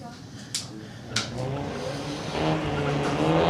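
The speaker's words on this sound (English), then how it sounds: "BMW taking off first" A 2015 BMW and a 2001 Acura launch off the line at a drag strip, engines revving and building steadily under crowd noise, with two sharp clicks early on and the roar growing louder toward the end.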